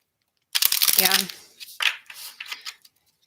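A deck of tarot cards is shuffled briskly up close, a quick riffling burst followed by a few lighter shuffles and taps, then quiet.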